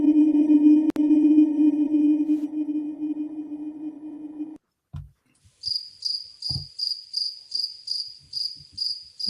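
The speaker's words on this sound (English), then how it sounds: "A lot of times you can find it just by putting crickets tuned down" A steady low drone cuts off, followed by a slowed-down recording of crickets, heard as an evenly spaced series of pulsing chirps with a few faint knocks in between.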